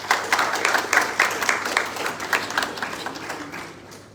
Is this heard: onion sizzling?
no